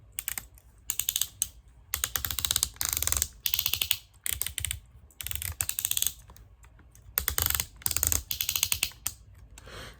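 Plastic clicks and ratcheting snaps as a Transformers Superion figure is handled up close, coming in dense bursts separated by short pauses, with no talking.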